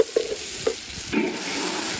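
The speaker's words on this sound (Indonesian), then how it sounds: "Kita tumis sampai wangi ya teman-teman." Spice paste being stir-fried in a hot pan, a brief soft sizzle with a few clinks and scrapes of a utensil stirring, close and fairly quiet.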